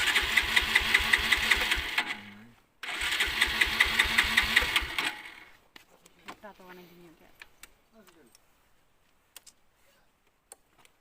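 Motorbike engine running with a steady rapid ticking chug for about five seconds, broken by a short gap, then cutting out to quiet clicks and rustles.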